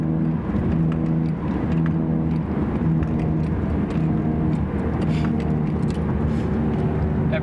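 Inside a Dodge Dart cruising steadily at 55 mph, a worn rear wheel bearing adds a constant droning whir to the road and engine noise, loud and unbroken throughout.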